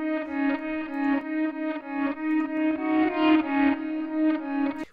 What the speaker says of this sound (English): we also want to put some reverb on to give some space